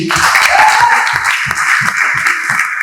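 A church congregation in Nairobi claps for the pastors with a loud, steady rhythmic applause that keeps an even beat throughout, close and sustained, no voices over it.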